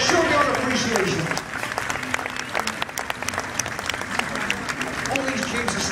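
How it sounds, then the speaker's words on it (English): Crowd applause rises from an outdoor audience at a 1940s wartime weekend main parade in Pickering, a steady wash of clapping that carries through the whole stretch, with a voice audible underneath at the start. "I think we deserve a big round of applause just for actually getting here"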